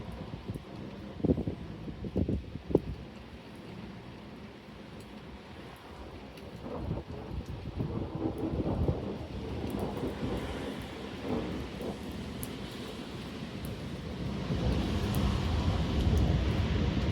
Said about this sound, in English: The periodic thunder clapping in the background,